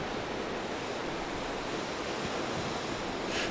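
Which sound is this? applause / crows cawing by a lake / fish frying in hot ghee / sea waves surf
sea waves surf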